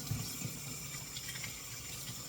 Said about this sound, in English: I'll just run some cold water on them to cool them off.